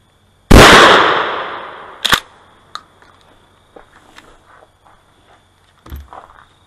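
A 12 gauge shotgun fires a single home defense slug outdoors, one very loud close blast with a long decaying tail, followed by a few faint clicks and knocks.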